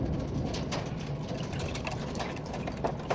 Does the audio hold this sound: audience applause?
no